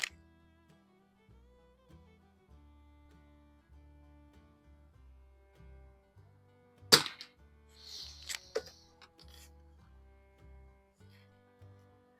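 A 1972 Anschutz Match 54 model 1407 rifle fires Eley Target ammunition at a shooting range, two sharp, sudden cracks a second or two apart that stand out against a steady tonal background hum.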